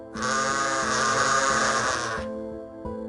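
A sheep from a flock gives one long, loud, wavering bleat close by, fading into a quieter bleat at the end with no other sounds.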